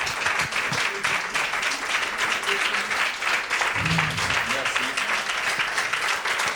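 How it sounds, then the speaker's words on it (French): An audience at a practical workshop on AI for associations applauds loudly, with dense sustained clapping throughout and voices faintly audible underneath. "On va te laisser, on va t'applaudir très fortement."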